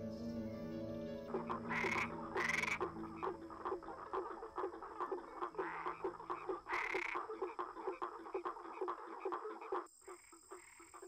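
Male frogs in Brazil's Atlantic Forest give mating calls, a dense chorus of rapid, regular croaking pulses with occasional louder bursts, close and steady for several seconds.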